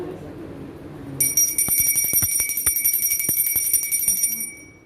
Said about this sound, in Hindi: घंटी बजा दो थोड़ा।